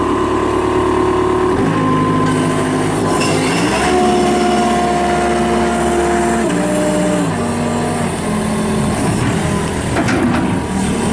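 2016 Gehl R220 rubber-tire skid steer loader with a two-speed drive, its diesel engine running loud and steady nearby, the droning pitch shifting up and down with throttle changes.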